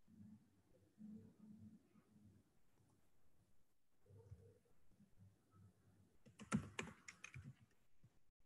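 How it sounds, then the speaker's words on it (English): Typing on a computer keyboard to enter text into the GST website: a steady run of soft, close key clicks, then a louder burst of faster tapping near the end. "once I type registration"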